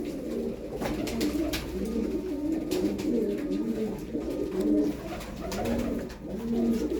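Pigeons coo in low, throaty, overlapping phrases that repeat steadily with no pause, close by and fairly loud, with a faint background rustle.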